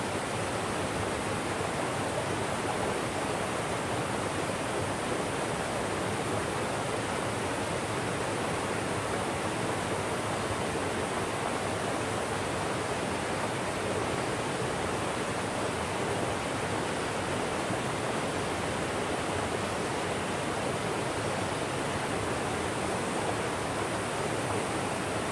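A forest stream by an overnight camp spot flows steadily throughout, a dense, even rush of water with no breaks and no voices.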